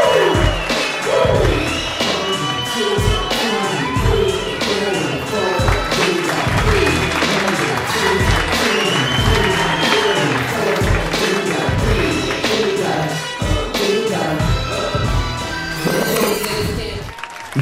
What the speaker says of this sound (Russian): Все аплодируем вместе, вместе!